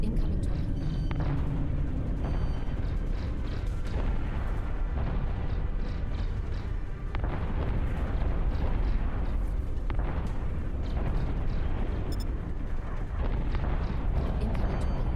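Torpedo explosions in the space combat game Elite: Dangerous, a continuous roar of deep booms and rumbling blasts that stays loud throughout.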